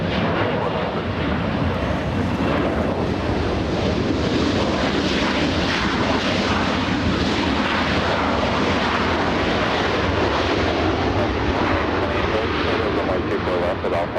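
An airliner powers up for takeoff from runway 24 left at LAX, a loud, broad engine roar sustained throughout, with radio voices faintly mixed in.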